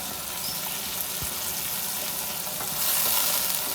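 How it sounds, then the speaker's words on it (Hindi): Garlic, turmeric, ground chillies and coriander frying in a pan with stirring, a continuous soft sizzle with scraping movements that grows slightly louder near the end. "अच्छी तरह मसाले को भून लेते हैं।"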